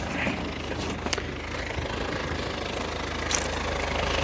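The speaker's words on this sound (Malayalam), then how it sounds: "ആ ഒരു ഡീസലിൻ്റെ സൗണ്ട് കേൾക്കാൻ തന്നെ അടിപൊളിയാണ്" A 2012 Hyundai Santa Fe 2.2-litre CRDI diesel engine idles with a steady low rumble and faint knocking clatter, heard close and alone with a few light clicks.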